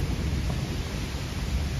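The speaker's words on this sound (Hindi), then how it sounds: "बारिश आ रही है भाई, ज्यादा जोर से तो नहीं कह सकते" Rain falling during a stormy spell, a steady, even wash of noise, moderately loud and continuous with no voices.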